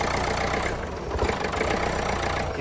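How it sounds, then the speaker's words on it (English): Engine of a Renault Kangoo van with a wiring fault, running with a steady rough idle drone that fades slightly midway as it stalls after the wiring is tugged, close and alone. "You can hear there, the engine is stalled."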